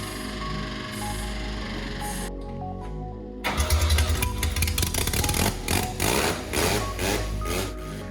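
A starter cranks briefly, then a Mazda 12A rotary engine catches and runs rough and loud, sputtering and uneven as it settles into a lumpy idle.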